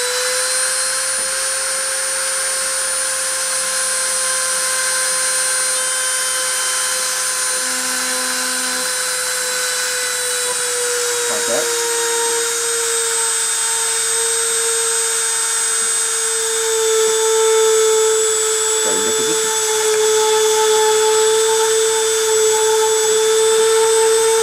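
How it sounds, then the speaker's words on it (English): A machine spindle runs steadily during metal deposition onto mild steel, giving a continuous, loud mechanical whine with a constant tone that holds for the whole stretch, with no talking. "I'm going to start the spindle and start the deposition."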